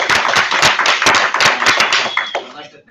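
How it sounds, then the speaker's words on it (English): Audience applause for a speaker named Simon at a university student-developer talk: a few seconds of close, uneven clapping from a smallish group that quickly thins out and fades. "give one more round of applause for Simon"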